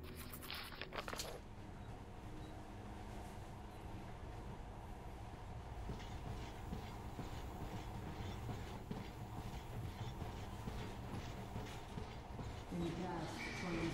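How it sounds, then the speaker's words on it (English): A monorail train in the video game Metro: Last Light Redux runs with a steady rumbling roll and faint rhythmic clatter, a sharp mechanical clank at the start, while a voice speaks over it. "In the past, trains were ordinary things. But now, this monorail seems magic, doesn't it?"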